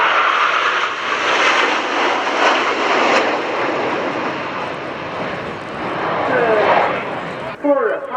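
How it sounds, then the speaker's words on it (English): Loud continuous roar of a nine-ship formation of Italian MB339 jet aircraft passing at an airshow, a broad steady jet rush that swells and fades, with a commentator talking over it. "The main formation is 9 aircraft, Italian,"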